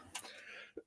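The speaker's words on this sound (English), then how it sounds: "Apologies again about the coughing." A single dry cough from a scratchy throat, close to the microphone, followed by a brief harsh throat-clearing burst a moment later.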